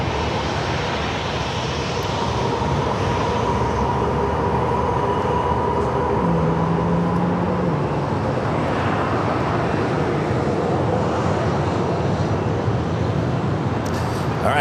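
Southwest Airlines jet taking off at San Diego airport, a loud, steady engine roar holding throughout, broad and continuous with a faint whine riding on top.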